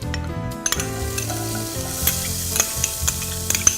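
Onions fry in hot butter with a close, crackling sizzle, broken by a few sharp clinks and scrapes of a utensil against the pan.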